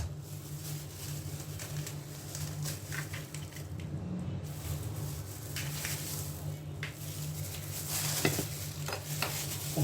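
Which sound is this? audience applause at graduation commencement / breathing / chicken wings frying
chicken wings frying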